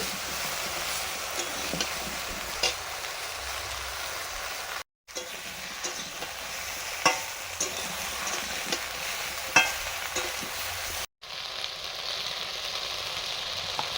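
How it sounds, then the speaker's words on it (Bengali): Okra stirred and fried in a kadai gives a steady, close sizzle with scraping stir strokes rising through it, broken by two brief silent gaps. "ঢেঁড়সগুলো প্রথমে কড়াইতে নেড়ে একটু ভেজে নেব।"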